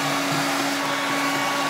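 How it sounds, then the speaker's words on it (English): A blow dryer whirs steadily at close range in a prison cell, a constant loud airy drone with a fixed motor hum, running alone without talk. "I'm going to bread these suckers and fry them up with my blow dryer for y'all."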